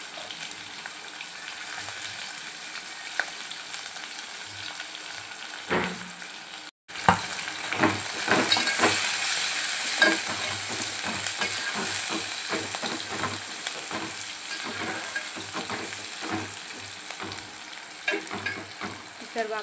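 Onion hits a pan of hot oil with green chillies, and after a brief gap a louder, steady sizzle follows, with frequent stirring scrapes throughout and no talk.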